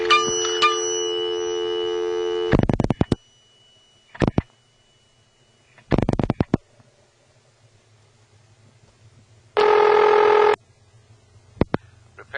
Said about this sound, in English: Each dime makes a double ding of an actual mechanical bell in the phone itself.